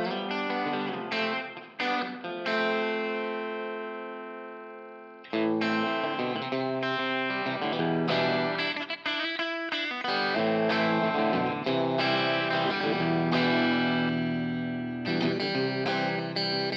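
Electric guitar played through a Two Notes Wall of Sound cabinet simulator with hall reverb, a sustained chord ringing out, then a stream of bright picked notes with long washy tails and no speech.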